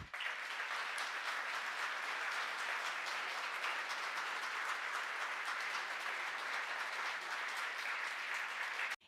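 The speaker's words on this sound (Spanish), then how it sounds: "Para ellos pedimos un gran aplauso." An audience applauds at a Senate award ceremony honouring Argentine taekwondo figures. The dense clapping holds steady and loud for about nine seconds, then cuts off abruptly.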